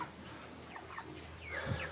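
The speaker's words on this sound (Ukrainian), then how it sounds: "курочки, наші півники." Chickens cluck softly in the background on a farm, with a rooster giving a brief call near the end over a low steady hum.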